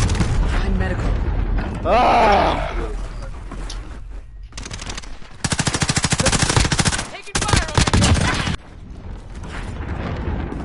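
Loud, close bursts of automatic gunfire in a squad-based shooter video game, over dense action noise, as players shout and talk.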